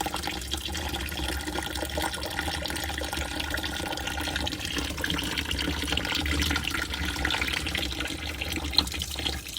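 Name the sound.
hot water running from tap into sink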